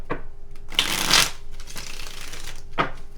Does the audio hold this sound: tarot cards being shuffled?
yes